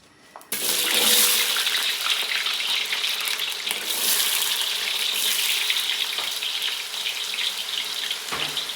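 Mixed carrots and potatoes hit hot oil in a pan for menudo, a sudden loud sizzle that holds as a dense, steady frying hiss with small crackles.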